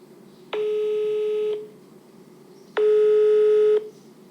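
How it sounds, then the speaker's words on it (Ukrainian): A telephone call's ringing tone sounds close and clear: two long steady electronic rings, each about a second, separated by a short pause over a faint line hiss. "Втретє, намагаюся дозвонитися до Дмитра Олександровича"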